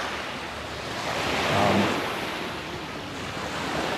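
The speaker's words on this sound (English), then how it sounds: "capture a little bit of the essence of the beach and the waves" Ocean waves wash onto a beach at sunset, a continuous broad rushing roar that swells midway and settles, with some wind noise on the microphone and no voices.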